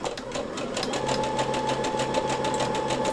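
A sewing machine stitches a seam with a fast, even rattling needle beat over a steady motor whine, running continuously up close with no voices.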